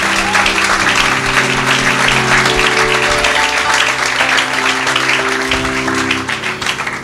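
A church congregation applauds loudly, a thick continuous wash of clapping hands that fills the whole stretch and thins slightly near the end, with voices and sustained tones murmuring underneath.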